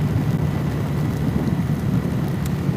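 Rain falls while riding, giving a dense, continuous wash of rainfall and spray with a low rumbling undertone, steady and fairly loud from start to finish, no voices.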